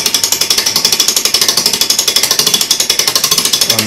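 Clock mainspring from an American clock barrel unwinding through a winder, a fast, steady ratcheting click repeating evenly at close range and fairly loud throughout, with no voices.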